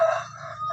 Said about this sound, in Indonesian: Ini calon-calon pikat ayam hutan muda anting putih